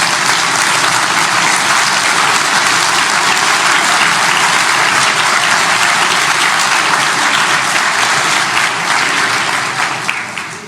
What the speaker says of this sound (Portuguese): Você pode aplaudir o Senhor Jesus Cristo